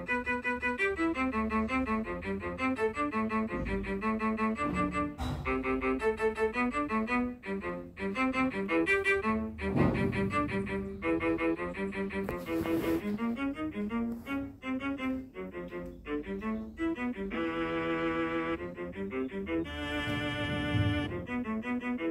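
In the video game My Singing Monsters, the Flapple monster sings alone: a dense, continuous musical line with bright layered tones and a steady pulse, moderately loud, with no talking.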